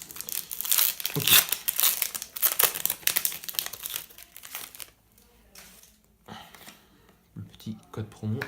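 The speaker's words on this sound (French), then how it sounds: "Si seulement j'arrivais à ouvrir le booster." Foil wrapper of a Pokémon card booster pack being torn and crinkled open, loud close crackling bursts that thin out into quieter rustles, with a brief spoken word.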